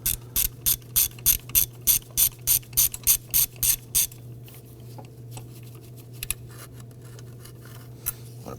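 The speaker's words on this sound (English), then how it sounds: "I'm going to use my shallow 13 and my swivel head ratchet to go ahead and loosen and remove this bolt" Swivel-head ratchet on a shallow 13mm socket loosening a bolt on a 2008-2011 Ford Focus during a valve cover gasket job, about a dozen quick, loud, evenly spaced clicking strokes, then quiet handling noise.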